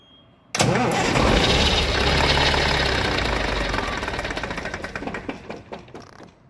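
A Cummins N14 diesel engine bursts into life abruptly and runs loud and close, its rough clattering roar holding steady before settling into an uneven, knocking idle with a faint mechanical rattle.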